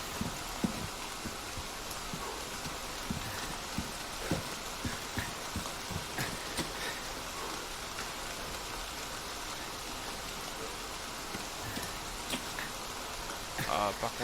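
Steady broadband hiss of rain in the video game Resident Evil 4 fills the clip, with scattered sharp ticks of drops; no talking.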